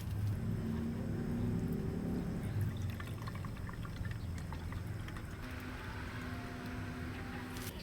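Water poured steadily through a filter during gold recovery from IC chip scrap, a continuous close splashing flow with a heavier low rush at first that eases slightly toward the end.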